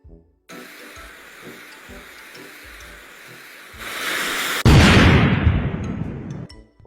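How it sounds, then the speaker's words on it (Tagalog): A firecracker hisses for a stretch, then bursts with a sharp bang, followed by a loud crackling hiss that slowly fades. "Pre, narinig kasi namin yung paputok mo kaya pumunta kami dito."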